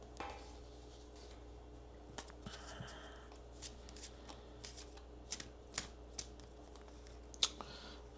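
Tarot cards being shuffled and drawn by hand, with soft riffling and a series of crisp, separate card snaps and taps, close and quiet, with no talk.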